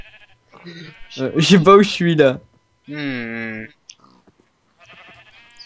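Sheep bleating in a blocky sandbox survival video game, a clear wavering bleat standing alone between stretches of someone talking, with a fainter second call near the end.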